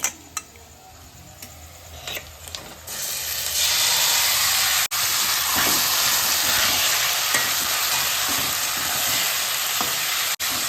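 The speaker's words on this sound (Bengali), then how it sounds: "এই যে ম্যারিনেট করে রেখেছিলাম এই চিকেনটা এটা একটু দিয়ে দেবো এখন" Marinated chicken goes into a hot pan, and a quiet frying hiss swells into a loud, steady sizzle that carries on with occasional stirring clatters.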